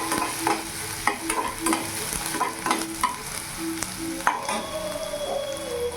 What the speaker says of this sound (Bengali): পেঁয়াজটা একটু ভাজা ভাজা করে নেবো যাতে কাঁচা ভাবটা একটু চলে যায়।